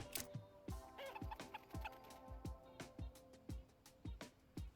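Chickens cluck in a steady, fairly loud series of short calls inside the Counter-Strike 2 shooter game, with clucks coming one after another and no talking.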